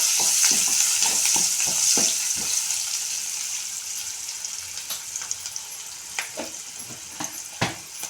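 Turmeric being stirred into brinjal frying in a pan, a steady close sizzle with bright crackle and repeated sharp spoon scrapes and knocks against the pan, more sparse toward the end.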